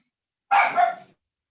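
A dog barks in a quick burst of a few sharp, loud yaps lasting about half a second, close by, with silence before and after.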